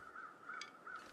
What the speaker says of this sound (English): Don't know how the crows know that there's a dead guy in the office building there